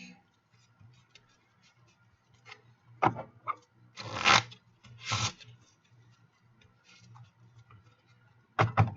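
Soft shuffling and riffling of cards in a Magic: The Gathering Online match comes in several short bursts, with light clicks and taps in between against a quiet background.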